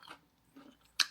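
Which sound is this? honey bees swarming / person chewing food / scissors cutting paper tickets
person chewing food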